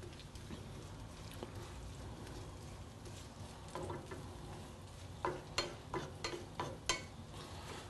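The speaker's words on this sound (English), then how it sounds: "We start off with our sliced onions, put them in the hot pan, and want to saute them just a little bit." Sliced onions sautéing in a hot pan give a quiet, continuous sizzle, with a few soft stirring scrapes and clicks toward the end.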